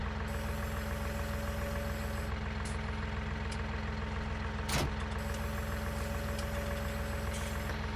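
A tractor engine idling steadily in Farming Simulator 19, a constant low drone with a faint whine and one brief sharp click partway through.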